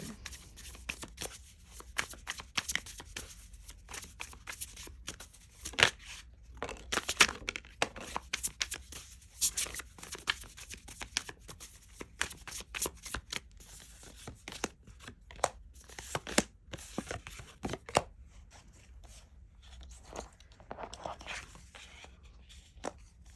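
Tarot cards are shuffled and riffled in quick, irregular papery flutters and soft snaps, close and fairly quiet, continuing steadily without speech.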